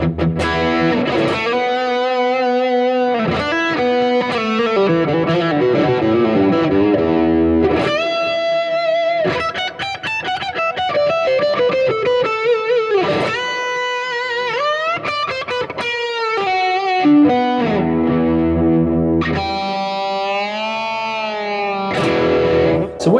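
An electric guitar plays a sustained, distorted classic-rock lead solo through a Blackstar amp's arena lead preset, with delay and reverb trailing the notes, loud and continuous with bends and held notes.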